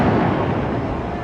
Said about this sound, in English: you might have just heard those explosions, flashbangs